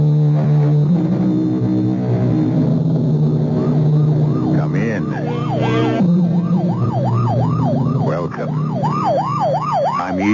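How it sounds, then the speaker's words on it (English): A police car or ambulance siren in an old-time radio mystery drama wails loud and close, its rising and falling cycles speeding into a fast yelp over a steady background hum, with no voices. "You know it's a police car or ambulance on the way to or from an emergency"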